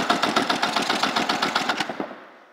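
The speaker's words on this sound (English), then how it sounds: "1990 Kawasaki TS650. Engine compression test," A 1990 Kawasaki TS650 engine cranks over during a compression test on the magneto side, giving a rapid, even train of clattering pulses for about two seconds before it stops and fades out.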